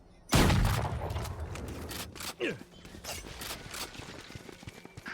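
Sharp gunshots ring out in a Valorant match, opening with a loud burst and followed by scattered, fainter shots, footstep-like clicks and game effects, as a voice talks over the action.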